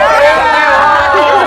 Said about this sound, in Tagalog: Yung mga tao sa studio, hiyawan na!